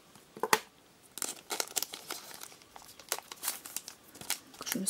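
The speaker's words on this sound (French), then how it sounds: "J'ai vraiment pas envie d'abîmer le booster, donc je vais l'ouvrir avec le ciseau" Crinkling of a Pokémon booster pack's foil wrapper as it is cut open with scissors, a string of close, sharp rustles and snips that is faint at first and then more frequent and steady.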